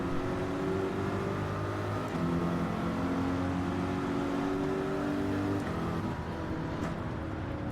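A Corvette race car drives in Gran Turismo 7, its engine a loud, steady drone close by. The pitch shifts with gear changes partway through, and the engine runs alone without talk.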